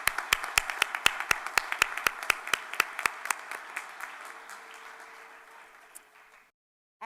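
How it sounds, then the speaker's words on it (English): Applause from a graduation hooding ceremony audience: sharp, evenly spaced claps stand out over a softer bed of clapping that thins and fades away over several seconds, ending in silence. "I think we can provide a round of applause for these great accomplishments."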